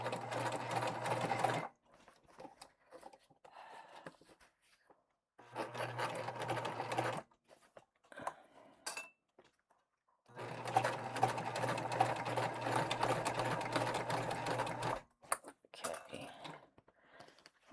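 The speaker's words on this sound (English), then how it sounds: "when you're sewing and you move things around like this, always, always, always make sure your needle is in the fabric" A sewing machine stitches a tote bag in three loud, steady runs separated by pauses; between runs there are quiet handling clicks and fabric shuffling.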